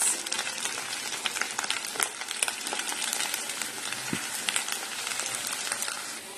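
Garlic fried rice with egg meatballs and sweet soy sauce sizzles and crackles steadily in a hot pan, close and continuous, with occasional scrapes of stirring and no talk.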